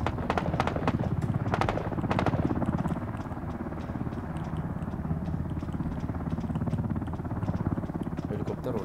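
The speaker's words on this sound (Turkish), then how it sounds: "Helikopter oraya geldi." A helicopter in the game Ring of Elysium beats steadily with a fast, even rotor chop that stays moderately loud throughout, while a player talks over it.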